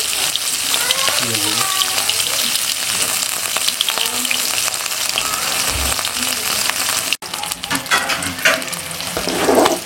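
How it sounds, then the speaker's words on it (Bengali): Loud, continuous frying sizzle of fish in a pan, crackling and spattering close up, with stirring scrapes and a brief break near the end. "এই যে আমার মাছ ভাজাটা হয়ে গেল।"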